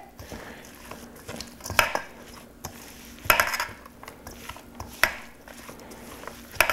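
Cranberry cilantro salsa ingredients mixed in a bowl with a spoon, giving a few clattering scrapes and clinks of utensil against the bowl, spaced irregularly and fairly close.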